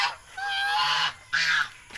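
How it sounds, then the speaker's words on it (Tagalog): Farm geese kept alongside ducks give two loud, nasal honks close by, each a drawn-out brassy call separated by a short pause, with a faint start of another at the end. "Ito mga gansa at pato diri"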